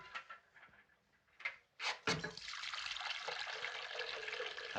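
Liquid poured to fill a container in a 1930s hospital setting, starting with a few light clinks and knocks, then a steady close hiss of pouring that runs on to the end.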